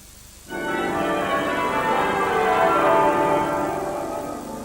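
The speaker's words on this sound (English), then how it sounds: "Accompanied by the bells of Westminster Abbey" Bells of Westminster Abbey peal at a royal funeral procession, a loud, sustained wash of overlapping rings that starts abruptly and carries on steadily with no voices.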